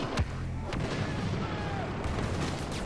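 Gunfire in the Star Wars Battlefront Walker Assault beta, a few sharp blasts near the start and around the two-second mark over a dense, continuous rumble of battle noise, with a voice briefly audible beneath.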